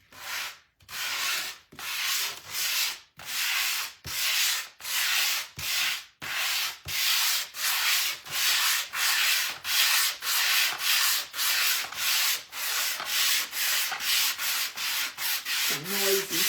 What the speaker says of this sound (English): Okay, now, I'll give it just a light sand.